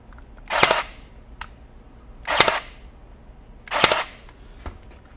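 A DeWalt DCN623 20V 23-gauge cordless pin nailer fires three sharp, evenly spaced shots, each a crisp pneumatic-like crack close by, followed by a fainter fourth click in a quiet room.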